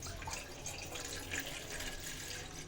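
Water poured into a pot while preparing a home cold-and-flu remedy, a steady splashing and trickling stream that runs for the full length, close and fairly quiet with no talking.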